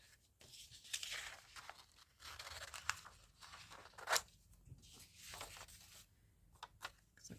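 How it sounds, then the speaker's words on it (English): Scissors snip through paper while trimming a label for a botanical junk journal masterboard, with soft tearing and crinkling sounds in quiet, close, irregular bursts. "go in with the scissors."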